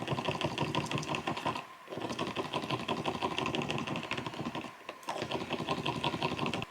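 Alcohol ink drops are stirred into resin, giving a busy run of rapid clicking and scraping strokes against a cup. Two brief pauses break the stirring, which is close and fairly quiet, with no talking.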